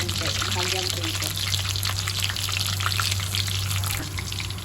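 Continuous crackling sizzle of a pork leg frying in hot oil, close and loud, over a steady low hum.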